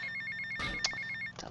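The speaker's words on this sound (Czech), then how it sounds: "Telefon zas." A phone in a video game rings with a steady train of short electronic beeps in a quick, even rhythm. A brief clunk interrupts it, and it stops near the end.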